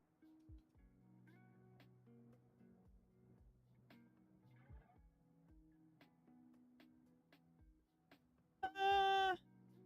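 Loud, close cat meow near the end, a single drawn-out call rising clearly above a quiet room where soft background music plays.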